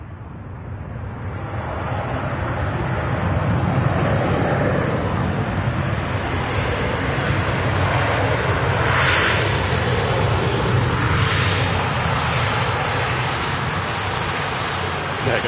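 An airliner coming in to land at Manchester Airport roars steadily overhead with a loud, broad jet rumble that swells and holds for several seconds, while people nearby talk faintly beneath it.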